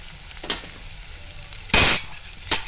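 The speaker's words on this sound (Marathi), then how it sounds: "मिरची टाकूया हिरवी चिरलेली. मग त्यात टाकूया आपण जिरं." Chopped green chillies and cumin seeds hit hot oil in a pan, giving three sharp sizzling bursts, the loudest in the middle, each fading quickly into a quiet crackle.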